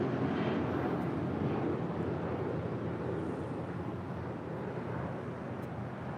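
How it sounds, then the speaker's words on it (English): A JetBlue Airbus A320 departing LAX produces a constant, broad jet roar, heavy and unbroken, easing only slightly in loudness over a few seconds. "Next departure, JetBlue Airways Flight 1268 heading to Windsor Locks at an A320."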